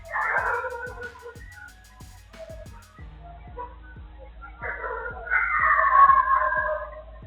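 Street dogs in a village bark loudly at night in bursts, first one dog and then several more joining near the end, over a regular low thumping in the background.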